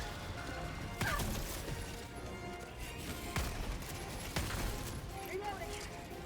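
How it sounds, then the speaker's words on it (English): Chaotic Helldivers 2 combat with sharp blasts and crashing impacts, one a grenade explosion that kills the player, standing out above constant gunfire and rumbling, with a voice talking over it. "Did I just die to a grenade?"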